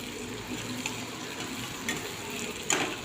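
Onion, curry leaves, green chilies and peanuts frying in hot oil, a steady close sizzle with a constant hiss and a few louder crackles and pops scattered through.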